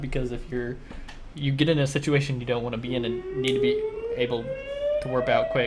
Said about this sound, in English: Sorry about the sirens, we're having storms here.